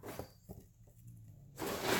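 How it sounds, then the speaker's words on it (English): A cat plays inside a plastic Dollar Tree shopping bag indoors, making soft, scattered crinkles and rustles that swell into a louder, denser crackling burst near the end. "That noise you hear is my cat playing in the Dollar Tree bag."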